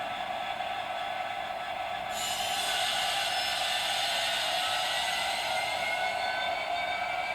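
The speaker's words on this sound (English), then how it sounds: "this is a superb locomotive, it really is" A model Class 66 locomotive running on Peco track, a continuous close mechanical whir and hum that steadies and grows slightly louder partway through, with no talking.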